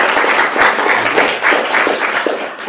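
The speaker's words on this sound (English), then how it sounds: "so a round of applause." An audience at a talk on deer ticks claps together in a sustained burst of applause that stays fairly loud and even, tapering slightly toward the end.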